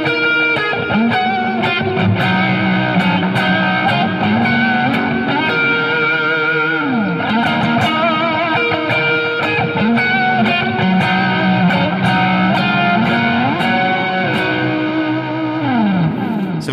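Loud, continuous distorted electric guitar riffing with sliding bends and sustained chords, heavily effected, no voices.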